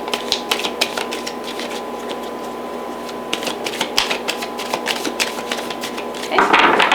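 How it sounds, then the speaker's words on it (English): Tarot or oracle cards being shuffled by hand during a Gemini love reading, giving a run of soft, irregular riffling clicks and flutters close up, with a louder burst of card noise near the end. "Okay, so I will be shuffling the cards too."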